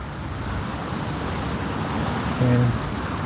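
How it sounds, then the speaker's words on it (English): Strong wind roars steadily and broadly at a lakeside fly-fishing spot, a dense rushing noise buffeting close by with a faint voice briefly under it. "this wind is brutal"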